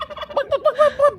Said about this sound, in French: Oh! Regarde-moi ça, le gros dindon.